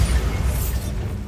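A Bombarda blasting spell goes off in Hogwarts Legacy, a low, rumbling explosive boom with a bright crackling burst, loud and sustained through the short moment without any talk.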